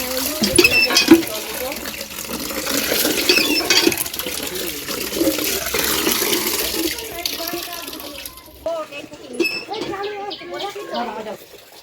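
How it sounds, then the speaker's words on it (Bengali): Water splashes steadily onto flowering hibiscus plants in front of a gate, a continuous pouring hiss that fades toward the end, with people talking over it and birds chirping nearby. "এই গেটের সামনে তো ভাই গাছে জল দিচ্ছে ফুল গাছে"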